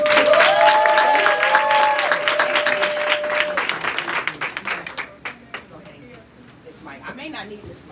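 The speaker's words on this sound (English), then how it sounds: "let's give a round of applause for Dr. Nakia Womack" A round of applause at a grand opening, loud and thick at first with a tone and voices over it, then thinning into scattered claps as the crowd settles.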